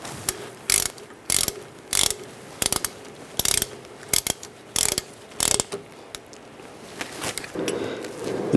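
Hand ratchet driving a banjo bolt through a brake hose into the rear caliper of a 2008-2017 Buick Enclave, giving about a dozen bursts of sharp close clicking with short pauses between strokes, no talk.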